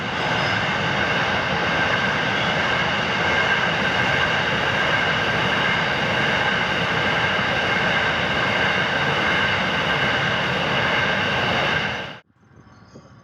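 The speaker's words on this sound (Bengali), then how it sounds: "ট্রেন যাচ্ছে মালগাড়ি" A freight train rumbles past a closed level-crossing gate, a loud, steady roar of wagons and wheels filling about twelve seconds before cutting off abruptly to near silence.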